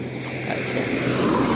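A motorbike engine runs with a steady, close, broadband rumble and wind noise for a brief moment.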